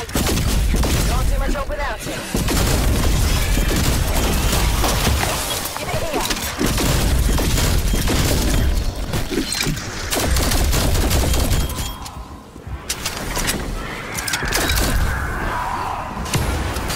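Shotgun blasts in Call of Duty zombies on the Mauer der Toten map, loud repeated booming shots and crashes in a chaotic barrage, with voices speaking over the fighting.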